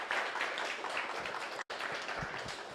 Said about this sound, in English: Big round of applause for Overflow.